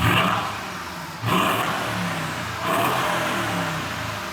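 A Mercedes GLS63 AMG engine revs loudly in repeated surges, roaring up, easing off slightly, then climbing again, with no one talking.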